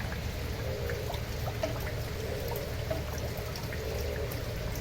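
Rainwater pours and flows steadily during cyclone flooding in Chennai, a constant close wash of running water and patter with no pauses and no voices.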